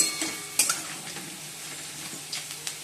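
Potatoes fry in a pan until reddish-brown, with a soft sizzle beneath a few sharp clinks and scrapes of a spoon stirring against the metal.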